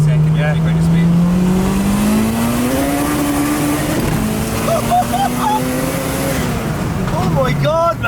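A naturally aspirated car engine revs up loudly while accelerating through the gears, its pitch climbing steadily then dropping at a shift before rising again, heard from inside the car at a night drive with people talking over it.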